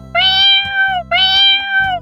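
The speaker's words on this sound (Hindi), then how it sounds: "आग देखकर बिल्ली घबरा गई" A cat meows in panic as fire spreads, a story sound effect: two loud, drawn-out yowls in close succession, each falling in pitch at the end, with no one speaking.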